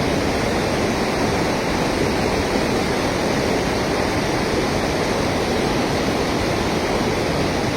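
A strong river current rushes during cast net fishing, a loud steady broadband roar of flowing water that continues without break for the whole clip, with no talking.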